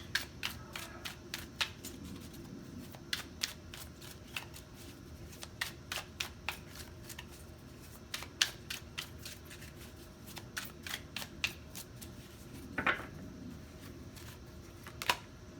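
A deck of tarot cards is shuffled during a card reading, giving quiet, close riffling and crisp snapping clicks in irregular bursts with brief pauses, heard alone without talk.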